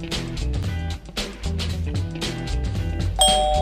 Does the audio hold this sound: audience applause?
no